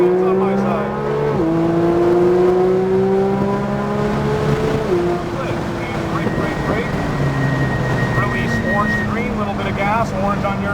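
Race car accelerating at full power, loud engine tone climbing steadily through several shifts with rising and falling pitch, heard up close over a constant roar, with an instructor talking over it.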